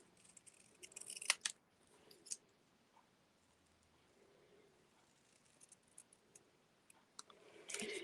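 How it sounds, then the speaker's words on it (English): Scissors snip through paper during fussy cutting for a stamped card project, a few sharp close clicks in short bursts separated by quiet pauses, ending with a louder cluster of snips. "When I fussy cut, I always move the paper. Don't move the scissors."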